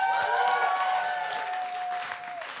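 A crowd at a live event applauds steadily as two guests walk up to the stage, with dense continuous clapping and a sustained tonal hum running underneath.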